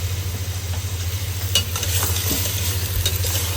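Red chilli, turmeric and black pepper frying and stirred in hot ghee and oil for a Desi chicken shorba, a steady close sizzle with scraping spoon strokes over a low hum.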